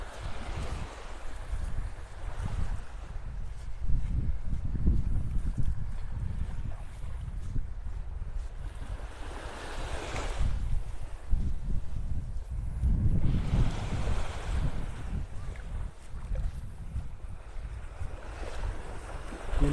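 Wind buffets the microphone over steady surf on Vanderbilt Beach in North Naples, Florida, the waves rolling and swelling loudly in repeated surges for the whole stretch with no talking.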